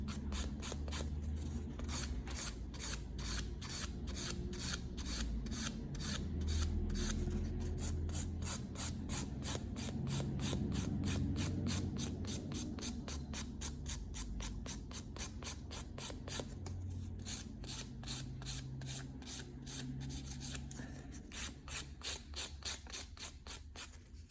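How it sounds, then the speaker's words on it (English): A gel nail surface on a practice hand is filed in fast, even rasping strokes that repeat steadily and close-up for the whole stretch, with no talking. "just keep filing until you perfect the surface"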